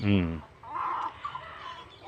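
A rooster kept for fighting lets out a brief harmonic cluck, followed by someone talking.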